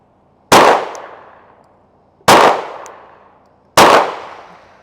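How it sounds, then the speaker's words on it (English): A small Glock pistol fires three sharp, loud shots spaced more than a second apart at an outdoor range. Each crack decays into a short echoing tail, with near silence between shots. "from 25 yards, you're gonna draw and fire 3 rounds"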